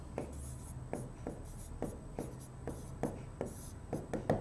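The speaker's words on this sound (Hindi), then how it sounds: "उदाहरण लिखता हूं।" Chemistry examples written by hand during a Class 12 lesson: crisp, evenly spaced strokes and taps, close and clear, repeating about twice a second with short quick marks in between.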